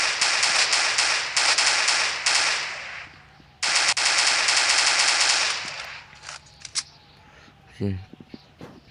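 Loud close machine-gun fire in the Zona Shadow of Lemansk video game, two long sustained bursts, then scattered single shots and clatter as it dies down, with a voice briefly heard.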